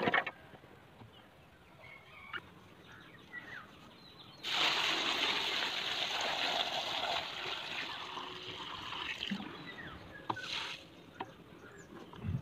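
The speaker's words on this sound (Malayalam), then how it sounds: "ഇത് മൂന്നാമത്തെ തവണയാണ് വെള്ളം ഒഴിച്ചിട്ട് കഴുകുന്നത്" Water is poured over arrowroot in a vessel during its third rinse, a sustained close rushing splash that starts partway through and runs for several seconds, then stops with a few small trickles and knocks.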